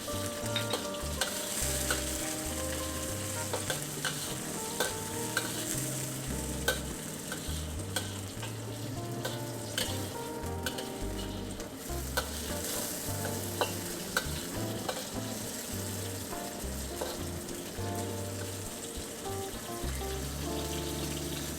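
Chinese sausage stir-fries in a wok for Penang char koay teow, a dense continuous sizzle layered with busy scraping and clattering of the spatula throughout, loud and near, with no one talking.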